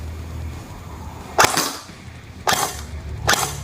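A Golden Eagle 6689 electric airsoft sniper rifle firing: three sharp, close, snapping shots about a second apart over a low steady motor hum, with no speech.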